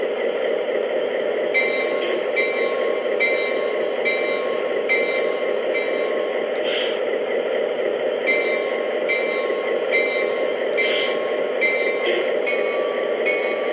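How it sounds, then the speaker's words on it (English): A small Lionel Southern Pacific Legacy EMD SW1 switcher model locomotive bell dings repeatedly at a steady pace over a continuous motor hum, with a couple of louder strikes mixed in. "Let's see what the bell sounds like."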